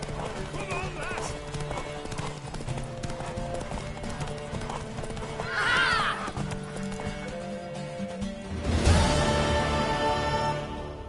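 Horse hooves clip-clopping at a gallop with a whinny, in The Witcher 3: The Wild Hunt, under game music and character talk, with a louder burst of activity near the end.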